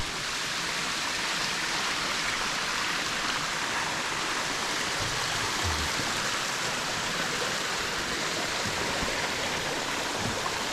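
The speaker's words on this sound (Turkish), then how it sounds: "Daha önce görmeyenler için Gelin Şelalesi." Gelin Waterfall pours down in a steady, dense rush of falling water, continuous and fairly close, with no voices.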